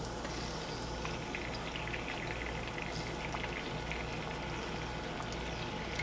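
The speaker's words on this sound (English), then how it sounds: "my garlic has started sizzling and I don't want my garlic to burn" Steady, crackling sizzle of garlic frying in a pan, a continuous bubbling hiss with no talking.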